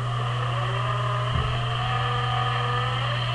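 Athearn Genesis SD45-2 model locomotive in Santa Fe livery, fitted with a Tsunami sound decoder, gives a steady diesel engine drone with a constant low hum and layered mid tones, held level throughout with a small bump partway.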